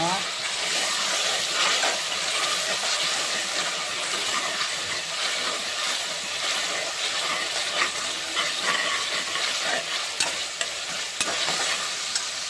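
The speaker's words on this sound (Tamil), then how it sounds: "ನಾನೀಗ ಶುಂಠಿ ಬೆಳ್ಳುಳ್ಳಿ ಪೇಸ್ಟ್ ಹಾಕಿದ್ದೀನಿ. ಅದು ಒಳ್ಳೆ ಫ್ರೈ ಆಗಲಿ ಎಣ್ಣೆಯಲ್ಲಿ." Ginger garlic paste frying in oil in a pan while cooking prawn biryani, a loud continuous sizzle with occasional stirring scrapes and no voices.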